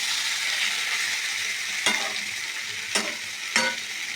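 Spice masala sautés in oil with a steady, close sizzle. Three sharp scrape-and-clank stirring strokes land near the end, and no voices are heard.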